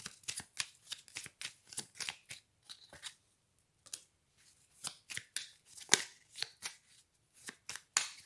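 A deck of tarot cards is shuffled in quick riffling bursts, crisp close rustles and snaps repeating with short gaps, alone and fairly quiet.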